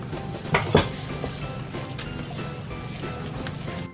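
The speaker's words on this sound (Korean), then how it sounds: "여기에 다진 마늘, 다진 생강, 설탕을 넣고 설탕이 녹을 때까지 잘 섞어주시면 된답니다" Minced garlic, ginger and sugar mixed into Jeolla-style kimchi seasoning in a bowl, with two sharp clinks near the start, then a steady wet churning and scraping of the paste, close by with no talk.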